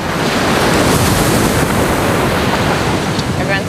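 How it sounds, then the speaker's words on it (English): Big ocean waves crash and surge in a loud, continuous roar, with heavy wind buffeting the microphone, out on the water during the 2010 Gulf oil spill. "big waves."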